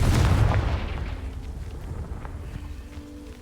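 A Confringo blasting spell goes off in Hogwarts Legacy as one loud, close boom at the start. It rumbles and slowly dies away over a few seconds, with no talking.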